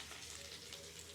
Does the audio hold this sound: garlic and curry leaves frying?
yes